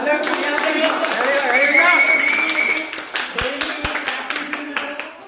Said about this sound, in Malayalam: ഇവർക്ക് വേണ്ടി ഒരു ബിഗ് ക്ലാപ്പ് പ്ലീസ്.